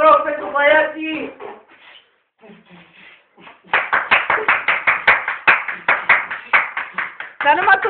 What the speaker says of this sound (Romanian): Dar numai tu te aplauzi.